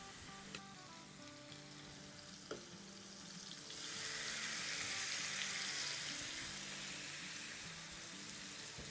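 Tandoori chicken tikka pieces sizzling in a pan on a stovetop, a continuous hiss that swells louder midway as more pieces hit the pan, with a couple of faint clinks early on.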